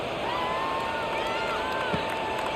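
A stadium crowd in the college football video game College Football 26 keeps up a steady, broad roar of cheering, continuous and fairly loud with no breaks, like the wash of a packed stadium around a kickoff.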